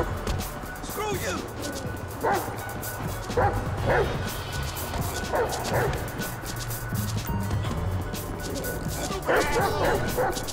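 Dog in Grand Theft Auto V yipping, barking and whimpering in repeated short bursts, close and loud over a busy game scene, with people talking throughout.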